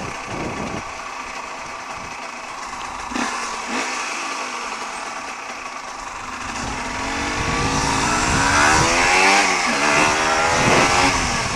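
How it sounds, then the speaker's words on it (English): A motorcycle engine idles and then revs up hard, its pitch climbing in repeated rising sweeps as it accelerates through the gears. The sound is loud and close, heard from the rider's position, with no talking. "God, I love the acceleration of a bike."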